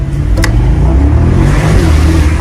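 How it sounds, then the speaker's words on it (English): Loud, close car engine revving, a sustained rough roar with no talk over it. "I want to hear that engine bark."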